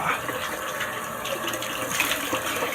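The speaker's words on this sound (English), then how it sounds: "turning on the water so I can do my face, get some of this soap off" Water from a bathroom tap runs steadily and loudly into a sink while someone rinses soap off their face after a shave, a continuous splashing rush with no talk.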